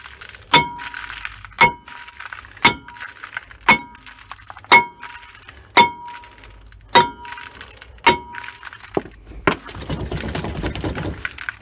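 A sledgehammer strikes the brake rotor and hub bearing of a 2003 Ford Expedition 4x4, nine sharp metallic clanging blows at a steady rhythm about one second apart, close and loud, followed by rattling metal.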